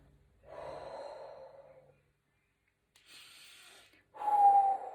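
Slow, deep breaths drawn in and let out, each a soft airy rush lasting a second or more, separated by pauses of near silence; close and quiet, with no talking.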